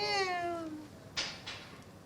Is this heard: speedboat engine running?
no